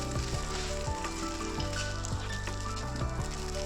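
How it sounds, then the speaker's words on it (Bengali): Fish pieces fry in hot oil in a pan, a dense continuous sizzle with periodic sharp crackles and pops, close and loud with no talking. "তো মাছ কটা এখন ভেজে রাখবো"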